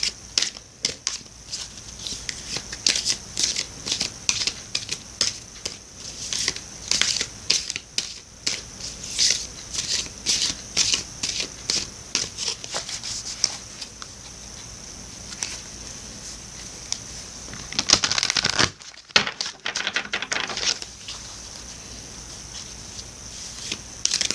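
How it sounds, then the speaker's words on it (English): Oracle cards from the Divine Circus Oracle deck are shuffled repeatedly in quick, papery riffles and taps, fairly close, with a brief louder rustle near the end; no one speaks. "Now I'm going to shuffle for you the Divine Circus Oracle deck by Elena Fairchild."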